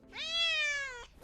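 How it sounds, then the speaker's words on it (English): A nervous cat shut in a pet carrier gives a single clear, drawn-out meow lasting about a second, close and fairly quiet in a still room. "With the nervous cat put safely in the carrier"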